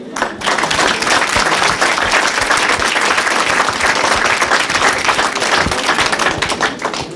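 Ceremony audience at the Bruxellois de l'année awards in Brussels gives loud, sustained applause, dense clapping filling the whole stretch after a brief quiet start.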